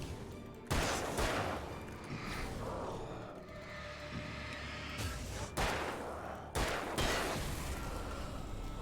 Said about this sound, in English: I'm using a pistol now